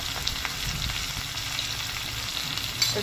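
Chili powder and Kashmiri chili powder sizzle in hot oil while being stirred, a continuous close crackle with light scrapes of a spoon and a brief clatter near the end.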